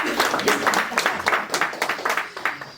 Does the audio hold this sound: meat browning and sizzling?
no